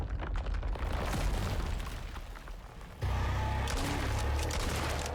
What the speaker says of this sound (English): we'll try out the explosive right into the face